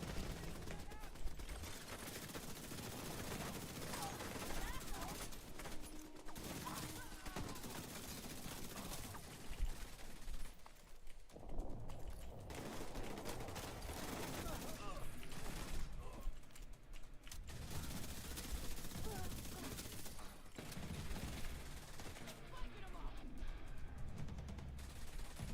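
Sustained minigun turret fire in The Division 2, set at a shielded position guarding a museum, rattles on and off in long bursts amid combat noise, with a voice speaking over it.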